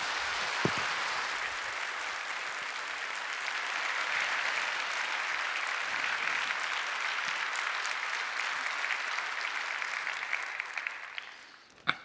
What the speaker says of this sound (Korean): 크게 박수로 목사님을 맞으시면 좋겠습니다.